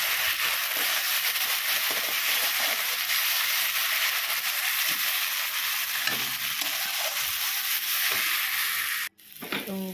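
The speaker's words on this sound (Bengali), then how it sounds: "মশলাটা আমাদের ভালো করে ফ্রাই হয়ে গেছে" Spice masala for a ridge gourd curry sizzles steadily in a pan, a continuous close frying hiss with faint stirring scrapes, ending in a brief clatter near the close.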